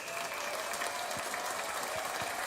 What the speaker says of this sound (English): wait, second round of claps.